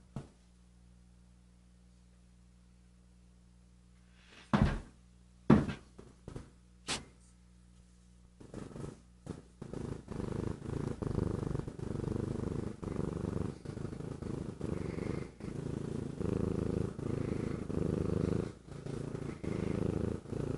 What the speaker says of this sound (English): Well, now you're purring.